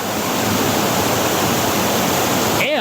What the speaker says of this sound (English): So you've got the waterfall cascading down here, and it goes all the way up there.